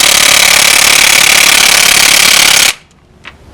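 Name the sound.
DeWalt impact wrench on Honda Accord crank bolt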